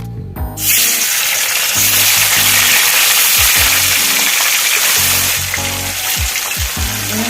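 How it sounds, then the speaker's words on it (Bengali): Katla fish sizzling in hot oil: a loud, steady, crackling fry starts abruptly after a brief quiet moment and continues unbroken, with faint low clinks beneath. "আমি এবার মাছগুলো ভেজে নেব।"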